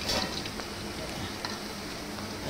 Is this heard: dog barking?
no